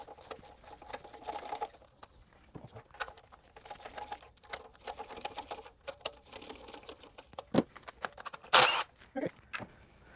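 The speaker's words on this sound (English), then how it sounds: "let's pull all spark plugs" Spark plugs being worked loose and pulled from a car engine said to burn oil: scattered close clicks, ratchet-like taps and metallic rattles, with a sharp bright clatter near the end and quiet gaps between.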